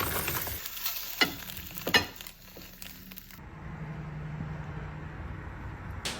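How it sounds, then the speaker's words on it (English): Vegan schnitzel sautés in a pan with a soft steady sizzle, broken early by a few sharp clinks of a utensil against the pan before the frying settles into a quiet even hiss. "So here I've got some vegan schnitzel that I'm just sauteing"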